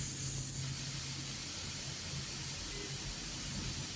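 Bathua greens sizzle steadily in a hot pan as they are stirred to drive off excess water, a continuous close hiss with faint low rumbling beneath and no talk.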